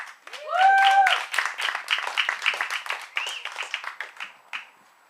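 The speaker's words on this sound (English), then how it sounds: "If you guys can give her a round of applause." An audience applauds as a woman named Summer is called up to the stage, a brief whoop rising at the start before scattered claps continue and gradually thin out, fairly close and moderately loud.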